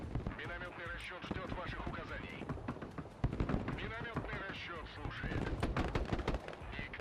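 Gunfire and mortar blasts from the video game Broken Arrow, a night-time invasion mission, with dense rattling shots and thumping impacts running throughout under continuous shouted voice chat.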